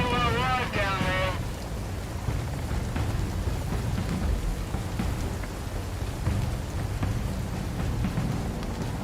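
Steady rain and a thunderstorm rumble continuously in the video game Sons of the Forest, with a brief stretch of speech at the start before the rain hiss carries on alone.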